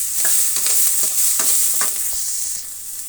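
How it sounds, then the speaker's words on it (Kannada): Curry leaves crackle and sizzle in hot tempering oil for a village-style gourd curry, a steady close frying hiss broken by several sharp pops and stirring scrapes, with no voices. "ಸ್ವಲ್ಪ ಕರಿಬೇವಿನ ಸೊಪ್ಪನ್ನು ಸೇರಿಸ್ತಾ ಇದ್ದೀನಿ."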